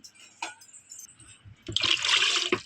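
Water is poured over salted chillies in a container: a couple of soft knocks, then a close, splashing pour lasting about a second.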